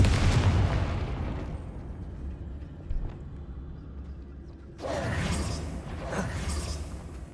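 A Confringo blasting spell going off in Hogwarts Legacy, a loud booming burst at the start that fades into rumbling, then a second burst of crackling blast noise later on.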